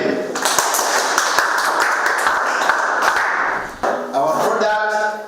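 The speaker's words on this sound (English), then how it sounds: "Clap up for them." A group of students applauding in a classroom, dense rapid clapping that runs for several seconds, dips briefly and then picks up again, fairly loud and close.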